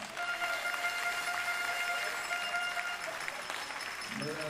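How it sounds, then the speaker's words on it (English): Applause at a 25m rapid fire pistol competition patters on at moderate level under a steady tonal hum, with an announcer's voice speaking over the crowd. "Big applause for Quiconpois!"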